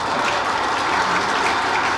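An audience claps at a political speech by Megawati, a dense, even patter of many hands, steady for the whole moment with no voices over it.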